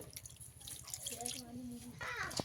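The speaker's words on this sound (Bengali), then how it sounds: "নুন দিয়া মাছে কিছুক্ষণ জল দিয়ে ভিজিয়ে রাখবো" Water runs and drips onto salted fish set to soak, a close splashing trickle that swells into a fuller pour near the end, with faint talk in the background.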